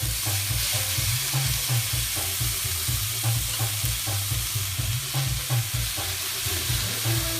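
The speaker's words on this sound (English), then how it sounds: "So we're gonna go ahead and add the chicken here to the pot." Chicken pieces browning in a big deep pot for curry chicken with chana and aloo sizzle steadily and loudly, with repeated scraping stirs keeping an even rhythm and no voices.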